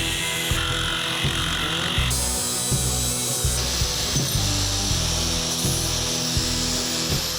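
A power tool grinds steadily into the bottom corner of a steering assist bracket, close and loud, with a rough, rhythmic chatter pulsing throughout and shifting in pitch as the cut progresses.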